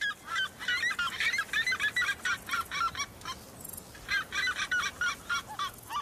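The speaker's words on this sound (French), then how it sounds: "Lorsqu'un cariama huppé se sent provoqué dès le point du jour, il donne de la voix." A red-legged seriema calls loudly at dawn in a rapid series of harsh, yelping honks, repeated rhythmically and close, over a soft background hiss.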